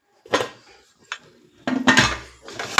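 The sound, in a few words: pressure cooker lid being closed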